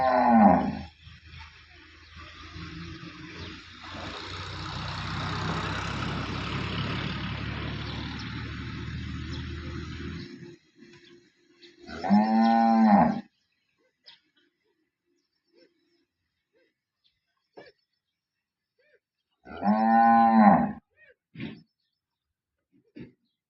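A freshly calved Holstein Friesian cow moos loudly and close by, two long drawn-out calls several seconds apart, after a stretch of rumbling background noise and otherwise quiet.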